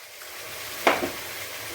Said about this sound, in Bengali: এবার ভালো করে এটাকে কষাবো তেল যতক্ষণ না ছাড়ছে কষে যাবো